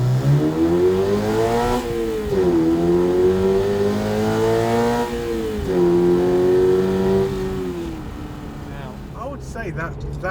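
A Toyota GR86 fitted with an Infinity Design carbon intake system revs loudly up close, its engine note climbing and falling in several rising sweeps before easing off toward the end.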